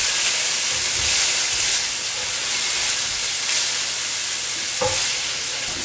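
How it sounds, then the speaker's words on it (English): Vegetables browning in a pan for nachos give off a loud, continuous hissing sizzle close by, with one brief knock near the end. "We're just going to saute them about 5 minutes."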